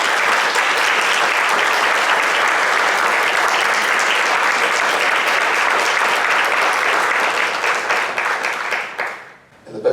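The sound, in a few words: audience applauding the election candidates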